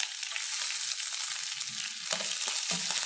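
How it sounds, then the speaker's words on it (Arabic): Minced onion tipped into a pan of frying peppers and garlic for a meatless moussaka, a steady close hiss of sizzling oil with brief stirring scrapes and a few louder bursts near the end, no talk. "أول ما بلش الفلفل مع الثوم يتدبلوا بهذا الشكل رح أنزل البصل المفروم"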